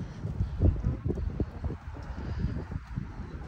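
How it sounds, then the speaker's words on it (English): Cold wind gusts outdoors beside the White House, buffeting the microphone in soft uneven rumbles that rise and fall throughout, fairly quiet and with no talking. "It's really windy while I'm trying to talk."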